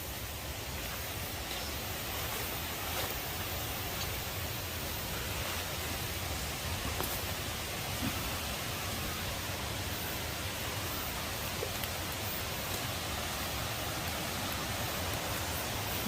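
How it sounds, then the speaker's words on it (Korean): Valley stream water flowing steadily beside a plot of land in a national forest, a continuous broadband wash that holds even and soft throughout with no voices. "계곡물이 흐르고 있습니다"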